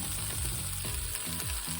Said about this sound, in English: I just popped them right in the pan, and we'll let them saute for just a minute.